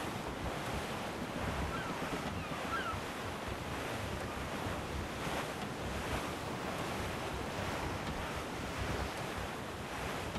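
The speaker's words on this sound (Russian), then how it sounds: "Ветер крепчает." Steady wind rushes over rolling ocean waves in Assassin's Creed IV: Black Flag, a constant dense roar with no voices, like open sea from a moving deck under sail.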